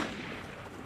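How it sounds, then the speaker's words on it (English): Gunfire in Assassin's Creed Unity heard as a dense, rough burst of battle noise, ending in one sharp, louder shot. "Stop shooting me."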